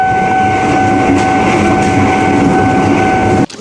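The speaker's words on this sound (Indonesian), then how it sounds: "Oke, ada kereta." A train rolls past close by near an old Dutch-era tunnel, a loud steady rumble with a sustained two-tone whine running throughout, cutting off abruptly near the end.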